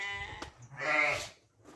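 A sheep on a farm gives a couple of bleats, close and fairly loud, one short and one longer wavering cry.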